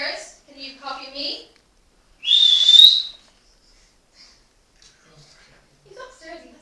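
A person whistles from upstairs in a house: one clear, rising whistle lasting under a second, heard between stretches of nearby talking.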